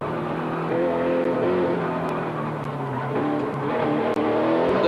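A 1986 race car driving through a left-hand corner on a racetrack, with a steady, loud engine drone and shifting harmonic tones as it moves through the bend, heard continuously without talk.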